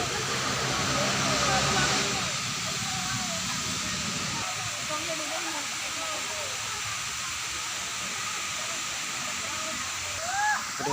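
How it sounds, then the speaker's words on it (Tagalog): A clear stream of water flows and gurgles steadily during an evening stroll, with a broad rushing wash throughout and voices murmuring faintly underneath. "rinig na rinig ang lagaslas ng tubig."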